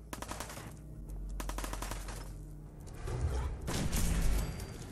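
Rapid gunfire from the video game Fallout 4, bursts of automatic shots in steady sequence with a louder, denser volley near the end, close and sharp with no talking.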